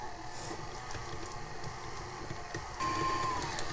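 A stand mixer whirs steadily as it creams butter for cookie dough, a continuous mechanical drone with faint ticking that grows slightly louder and gains a whine near the end.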